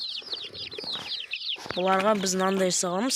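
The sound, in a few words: hen with chicks clucking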